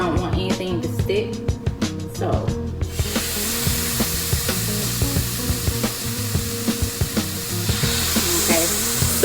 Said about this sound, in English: So I have these chicken breasts cooking.